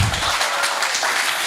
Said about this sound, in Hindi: भाई साहब के लिए ताली बजाओ